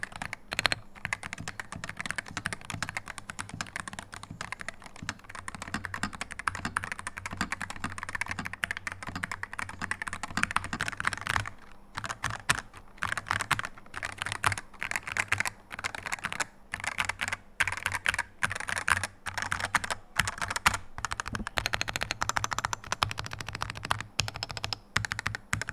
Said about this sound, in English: Now here's a quick sound test to give you an idea of what this board sounds like, both completely stock with 2 different plates.